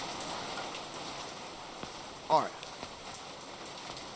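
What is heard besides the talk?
rain falling in a video game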